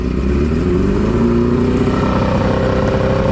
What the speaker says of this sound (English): So I go to rev it up